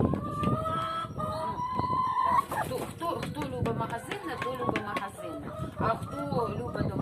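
Chickens cluck and crow in a farmyard as they are fed, a busy mix of overlapping calls and scratchy activity with a person talking over them.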